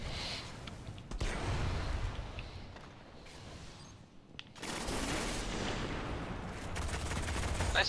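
Gunfire in a video game firefight, a continuous rattling barrage of shots at moderate volume that dips briefly before resuming strongly, with no talking.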